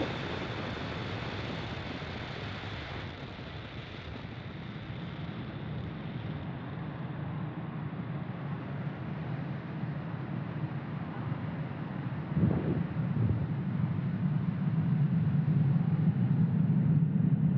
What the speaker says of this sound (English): Falcon 9 has successfully lifted off from Space Launch Complex 40 from the Cape